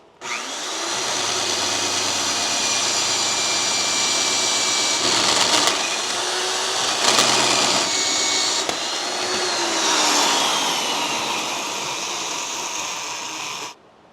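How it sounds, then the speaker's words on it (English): A 12-inch bench disc grinder chamfering and cleaning up metal edges, a steady loud whirring roar with scraping bursts as the workpiece is pressed against the disc, running alone until it stops. "It's just a 12-inch bench grinder or disc grinder. That just cleans up and chamfers the edges"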